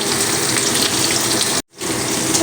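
Potatoes frying in mustard oil with salt give a steady, loud, dense sizzle that carries on without a break, apart from one brief moment of silence near the end.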